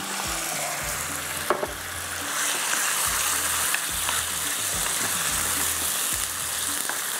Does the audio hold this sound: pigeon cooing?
no